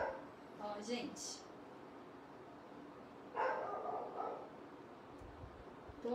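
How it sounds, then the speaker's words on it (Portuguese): A young female dog that is growing into an adult barks with a thickening, deeper tone, in two short bursts of barking amid a noisy background, with people talking nearby. "O latido dela tá engrossando."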